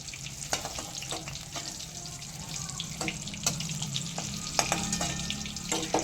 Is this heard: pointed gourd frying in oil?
yes